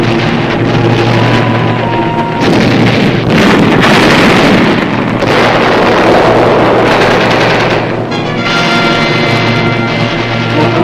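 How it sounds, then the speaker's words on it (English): WWII combat on Peleliu as Marines assault enemy positions with hand grenades and explosive charges: a continuous loud roar of blasts and rumbling, dense and unbroken throughout, with no speech. "Marines attack enemy posts directly beneath them with bullets, hand grenades, and charges of explosive"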